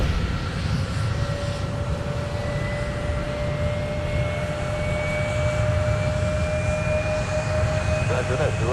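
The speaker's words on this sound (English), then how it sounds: "So this is UPS 5560 Heavy from Louisville." A UPS heavy cargo jet arriving from Louisville roars steadily at Minneapolis–Saint Paul airport, a loud continuous engine drone with a rising whine throughout.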